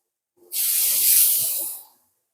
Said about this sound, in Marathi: थोडासा पाण्याचा झपका मारायचा ह्याच्यावर